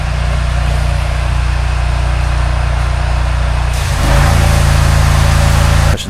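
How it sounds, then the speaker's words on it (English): A pressure washer runs loudly outside a 110-year-old house during soft washing, a steady mechanical engine drone that shifts to a rougher, louder tone partway through, with no talk over it. "you can hear our pressure washer running in the background"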